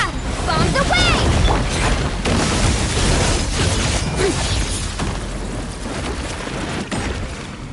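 Loud, dense bursts of bomb explosions in a video game, with booms, crashes and whooshes layered under continuous game action and a speaking voice throughout.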